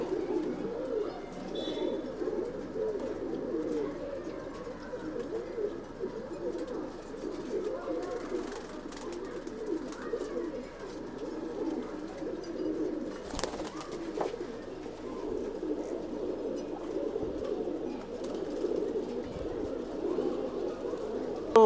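Old-bloodline racing pigeons in a Bangalore loft cooing continuously, a dense, steady murmur of many birds close by with no talking.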